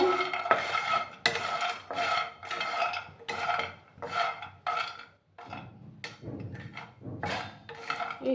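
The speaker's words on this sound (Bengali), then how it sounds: "বড়িগুলো প্রথমে শুকনো অবস্থায় আমরা একটু ভাজ ভাজবো" Dry lentil dumplings (bori) being tossed and stirred in a dry pan, a series of close scraping and rattling strokes in a regular back-and-forth rhythm with no talking.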